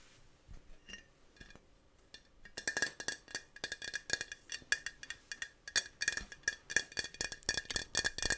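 A huge glass jar clinks and rattles, first with a few sparse taps, then a rapid, busy series of close, bright glassy knocks and chinks.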